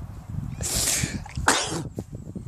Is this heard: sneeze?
yes